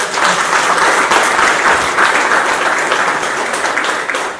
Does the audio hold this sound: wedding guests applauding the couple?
yes